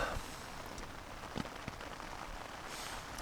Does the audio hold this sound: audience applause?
no